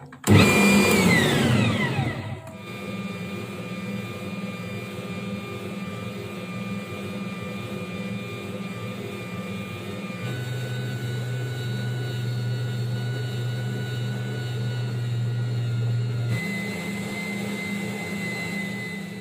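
An electric stand mixer kneads soft bread dough for a Yudane-method comb bread, opening with a loud startup whine, then settling into a steady motor drone that shifts pitch a couple of times, with no voices over it.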